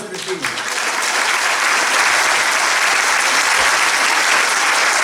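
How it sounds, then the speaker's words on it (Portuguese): Loud, dense applause from a live studio audience at a Portuguese talk show taping, rising quickly and sustained evenly for the whole stretch with no voices breaking through. "Palmas para mim!"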